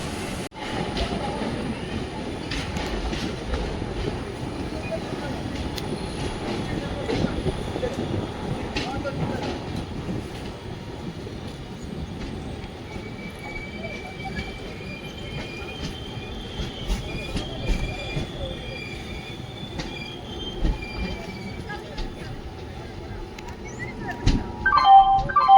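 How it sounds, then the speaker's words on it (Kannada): An express train pulls out of Mangaluru Junction, a steady rumble of wheels on rails and carriage noise running throughout, with faint squealing tones rising later and a louder jolt near the end. "10 ನಿಮಿಷ ಡಿಲೇಯಿಂದ ನಾವು depart ಆಗ್ತಾಯಿದ್ವಿ Mangaluru junction platform number"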